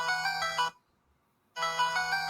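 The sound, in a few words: phone ringtone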